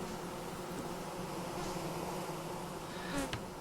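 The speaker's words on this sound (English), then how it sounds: "Another set of angry bees." A swarm of angry bees in the video game Vintage Story, a steady close buzzing drone that holds evenly throughout, with no one talking.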